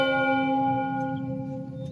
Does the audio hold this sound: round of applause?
no